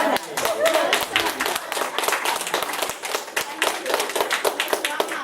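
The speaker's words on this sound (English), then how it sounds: "we need a large clap to all those men, those who support the women" An audience claps together in a room, a steady patter of individual hand claps with distinct sharp hits standing out, lasting several seconds at moderate loudness with faint voices underneath.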